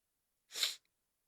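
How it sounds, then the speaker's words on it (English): A person sneezes once, a single sharp burst lasting under half a second, close and alone against silence, during a live stream. "Sorry, I sneezed."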